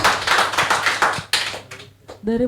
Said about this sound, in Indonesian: kita beri aplaus kepada Pak